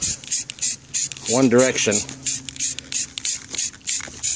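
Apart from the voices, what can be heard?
spray paint can spraying a wheel rim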